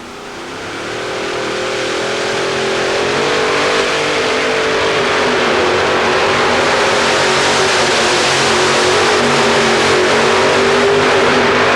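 A modified pulling tractor with three Arius engines, each rated at 1,600 horsepower, revs at an indoor tractor pull in Atlanta, its roar climbing steadily in pitch and staying loud and sustained throughout.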